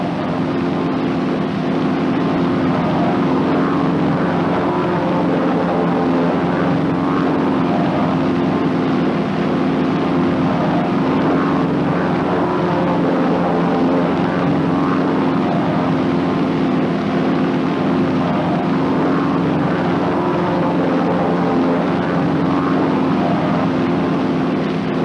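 A North American T-6 Texan propeller plane drones steadily in flight, its engine a loud, continuous, even hum with a low throbbing tone that holds unchanged throughout.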